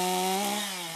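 Chainsaw carving a sit-down bear from a wood stump, the saw loud and close, a steady whining drone with a slight pitch dip as it bites into the wood, alone without talk.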